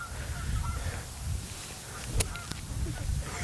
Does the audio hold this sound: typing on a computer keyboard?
no